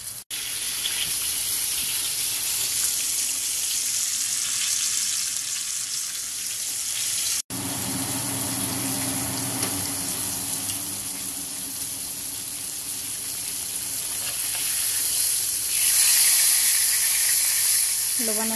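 Breaded fish and chicken fry over medium heat in a pan, a continuous close hissing sizzle with brief crackling pops, a short break partway, then growing louder toward the end.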